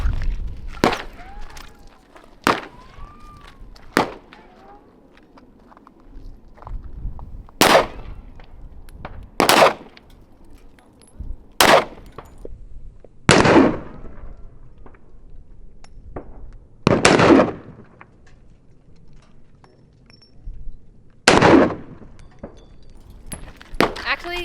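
A Glock pistol fitted with a tungsten guide rod fires about a dozen loud, sharp, close reports at irregular intervals, with quiet gaps and faint background noise between shots.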